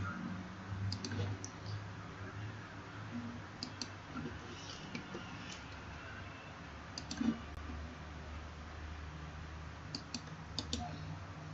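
Sharp clicks from a computer mouse while drafting in CAD software, arriving in small clusters of two or three taps spread irregularly over a quiet background hum, with no voice.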